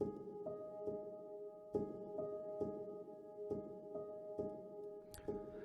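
Soft piano notes roll in a steady repeating pattern, each swell blurred by pedal and reverb into a gentle, washy haze.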